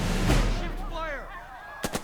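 Gunfire in the World War II strategy game Burden of Command, a loud opening shot that rings and fades, then a quick sharp volley of three shots near the end.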